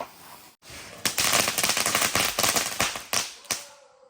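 Firecrackers burst at a family Vishu celebration at a home in Kerala, a rapid crackling string of loud bangs that begins after a short pause and ends with a few sharp final pops.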